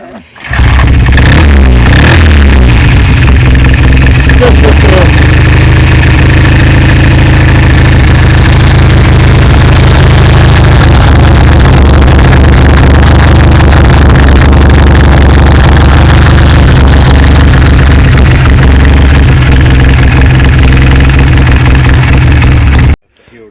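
An old BSA motorcycle engine runs loudly and close at an outdoor BSA owners' camp in Ireland, with a steady idle and a throaty rev early on. Voices can be heard faintly under it.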